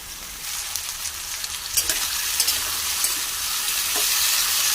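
Chopped potato pieces drop into hot oil in a pan and set off a loud, bright, continuous sizzle with a few stirring scrapes, close and without talk.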